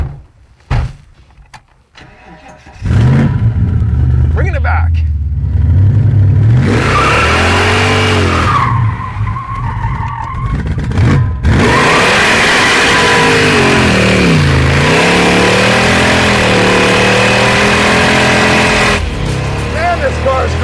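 A 1964 Ford Galaxie 500 XL engine roars and revs hard and continuously while the car spins donuts, loud and close, with voices talking and whooping over it.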